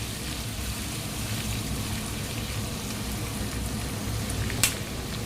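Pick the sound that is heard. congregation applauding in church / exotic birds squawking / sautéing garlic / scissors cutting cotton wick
sautéing garlic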